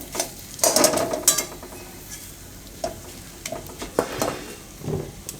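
Spoon stirring dates with dry fruit and grated coconut in a pan over a low flame, giving scraping, clattering strokes in irregular bursts, close and moderately loud, with no talking.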